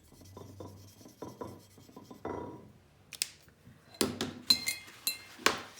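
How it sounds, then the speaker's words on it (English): Light clinks and taps of a glass jar of water, used for rinsing while sketching with markers, come as scattered sharp tinkles with soft rubbing between them, close and quiet with no talking. "sorry about all the tinkling,"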